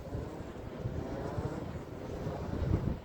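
Outdoor wind turbine blades spinning, a steady broadband whooshing rumble with wind buffeting the microphone, swelling slightly toward the end, no voices.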